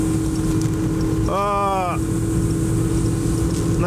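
An ALUMA Storm 477 aluminium fishing motorboat cruises with a steady, loud outboard engine drone and wind rush throughout, broken briefly by a short rising whine in the middle.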